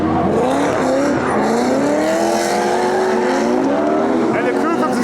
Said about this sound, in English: another V8 powered 350Z.